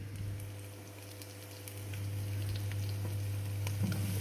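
Softened onions and corned beef fry in a pan with a steady, fairly quiet sizzle that swells slightly after the meat goes in, over a low constant hum, with no voices.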